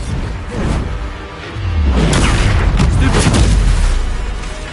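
A loud Bombarda explosion spell in Hogwarts Legacy, a brief whoosh at first, then a heavy close blast that rumbles and crackles for a couple of seconds before fading.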